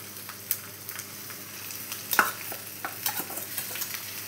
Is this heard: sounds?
no